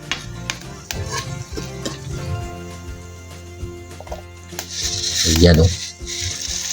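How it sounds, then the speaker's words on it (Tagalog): Chili garlic flakes frying in oil, stirred in a pan, give soft scrapes and sizzles with a louder clatter of stirring near the end, while a person talks over it. "dire-diretsong halo lang yan guys para pantay ang pagkakaluto"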